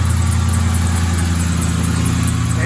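Ford Mustang GT engine running at a steady idle, a loud, even, throbbing rumble close by with no pauses.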